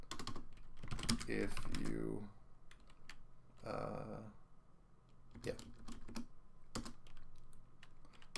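Loud typing on a computer keyboard with the microphone right beside it, bursts of rapid close key clatter and sharp single clicks, with someone speaking briefly between the bursts.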